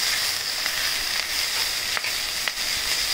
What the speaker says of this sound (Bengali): শুধু লবণ দিয়ে একটু ভালো করে ভেজে নিব